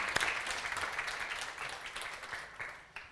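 Audience applause fills a hall in the Odeon theatre in Bucharest at an integrity gathering, a steady dense wash of clapping that swells and thins slightly, with no voices over it.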